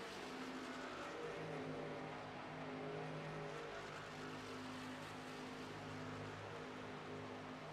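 Race cars roaring around the Homestead Miami Speedway oval in a racing video game, a steady droning blend of several engines with layered buzzing tones, continuous and moderately loud.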